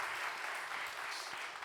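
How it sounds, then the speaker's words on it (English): Brief, faint wash of applause from a conference plenary audience, a soft continuous patter of many hands heard from a distance for under two seconds. "Please, another applause."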